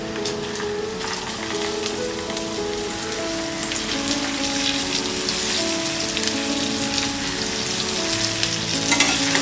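Cauliflower sizzles and crackles steadily in a hot pan for a Maharashtrian-style sabzi, a dense, even frying hiss that holds at a close, moderate level throughout, with faint stirring under it and no talking.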